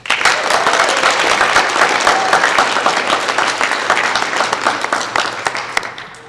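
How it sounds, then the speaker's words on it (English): An audience at a National Honor Society induction ceremony gives a loud, sustained round of applause for the students' loved ones, a thick, continuous burst of clapping that tapers off near the end. "Students, please give our loved ones a round of applause."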